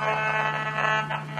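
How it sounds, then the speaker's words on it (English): A radiation detector reacting to signals from two connected mobile phones, giving off a close, continuous harsh electronic buzz with a steady low hum and slight pulsing. "by connecting the two mobile phones we've been using all the way through our test today, and then switching on the detector, so you can see the effect of that radiation."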